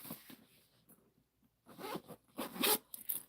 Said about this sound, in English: the zipper pull on this one is Ludo.